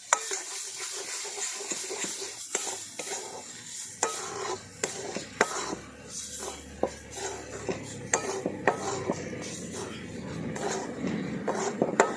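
Ground mung dal paste added to frying besan in a pan and stirred, with soft sizzling under repeated scraping and clinking of a metal spoon against the pan.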